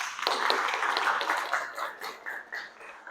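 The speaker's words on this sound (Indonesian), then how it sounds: "tepuk tangan untuk kelompok 2" Classroom of students in an Indonesian language lesson clapping for a student group, a brief burst of scattered, moderately loud claps that thins into a few uneven claps and fades by the end.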